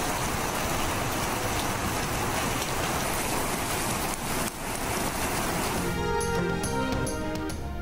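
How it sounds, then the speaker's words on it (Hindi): Heavy monsoon rain pours in Islamabad and Rawalpindi, a dense, loud, continuous hiss of rain hitting surfaces, with a brief music-like sting near the end. "इस्लामाबाद और रावलपिंडी में शदीद बारिश।"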